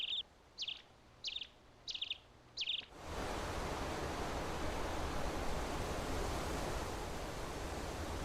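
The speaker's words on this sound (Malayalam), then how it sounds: "കിളികൾ ചിലയ്ക്കുന്ന ശബ്ദം," Five short, bright bird chirps in an evenly spaced series, then a loud, steady rushing roar like surf takes over.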